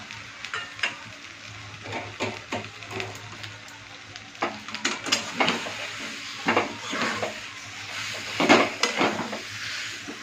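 Schezwan chutney, salt and chili powder being stirred into noodles frying in a pan, with repeated scraping and clinking strokes of a utensil against the pan over a steady close sizzle.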